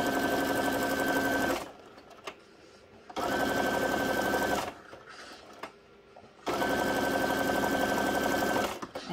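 A sewing machine stitches over journal cards made from paper punch negatives, running in three steady whirring bursts of about one and a half seconds each with quiet pauses and small clicks between them.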